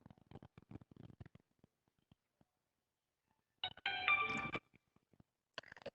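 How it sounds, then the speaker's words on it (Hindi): A phone ringtone sounds in a quiet room: a bright electronic melody bursts out for about a second, then a short second burst follows, preceded by scattered faint taps and handling noises. "सब गलत ही टाइम फोन क्यों करते हैं भाई?"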